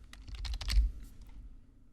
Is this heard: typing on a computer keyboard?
yes